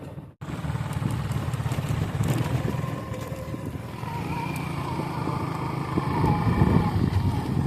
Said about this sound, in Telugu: ఇదైతే ఇటు నుంచి బైక్స్ కూడా వస్తున్నాయి గాయస్ దీని మీద నుంచి.